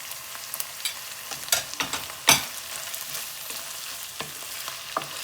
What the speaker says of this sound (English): I'm going to add ginger. Fry 2 minutes.